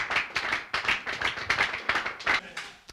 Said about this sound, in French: Acclamons très fort pour la gloire de Jésus